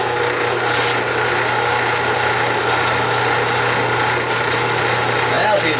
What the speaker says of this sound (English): Now she's drilling.